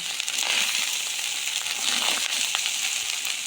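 Cooked rice is stir-fried in oil with a continuous close sizzle and crackle, steady throughout with faint stirring scrapes and no talking.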